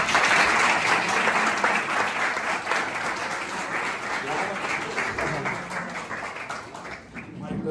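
Sustained applause from an audience at a counselling class for 12th-pass students in Eaglewise, dense and steady for the whole stretch, easing slightly toward the end.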